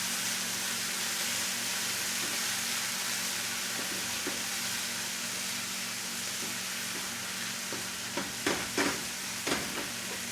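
Vegetables frying on a stovetop as soy sauce goes in, giving a steady broadband sizzle throughout, with a few sharper crackles and spatters near the end.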